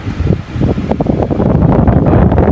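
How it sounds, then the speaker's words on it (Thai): A car air conditioner fan runs at its highest speed, giving a loud, steady rushing blow of air with some rumble and no talk. "เปิดสวิตช์พัดลมนะครับ ไปที่ เบอร์แรงสุดนะครับ ความเร็วลมสุดสูงสุดนะครับ"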